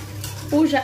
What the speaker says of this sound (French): j'arrête pas de mélanger